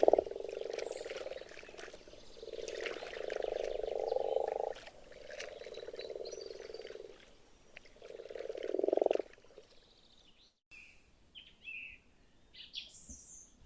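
A chorus of frogs croaks in a Hungarian forest wetland in spring, steady buzzing trills rising and falling in repeated bursts, with faint bird chirps in the background.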